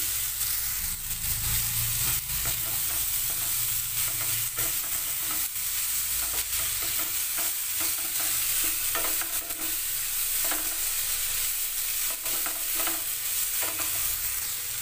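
Boiled figs (dumur) frying in a pan with a teaspoon of chili powder for a vegetarian dish, a continuous close sizzle under repeated scraping stirs for about fifteen seconds, no voices.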